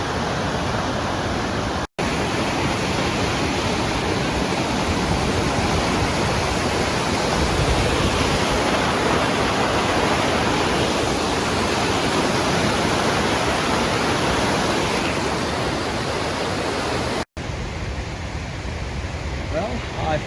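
Waterfall at a mountain spring near Mackay, Idaho: steady, loud rushing roar of falling water, constant and close throughout, with two brief dropouts.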